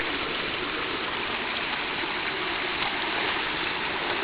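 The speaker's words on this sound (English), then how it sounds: "hey, Ben, want to see a waterfall we have in Pennsylvania? It's a teeny tiny baby. Really loud" A small waterfall in Pennsylvania roars steadily and loudly throughout, a dense, constant rush of falling water close by with no voices.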